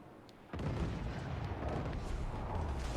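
Ship cannons fire in the naval combat of the video game Assassin's Creed Black Flag, a sudden loud boom followed by a dense rumbling roar of continued fire and explosions, heavy and close, with no talk.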